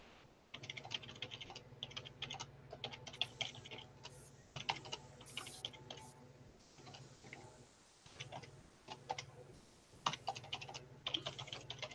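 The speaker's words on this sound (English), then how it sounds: "Can anybody hear my keyboard?" Computer keyboard being typed on, rapid irregular clicking in bursts with brief pauses, close and crisp, heard alone without talk.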